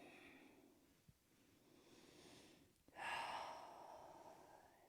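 Slow, deep breaths during a seated splits and flexibility stretch, a soft long exhale followed after a brief rustle by a fuller, louder breath, close and quiet with no talk.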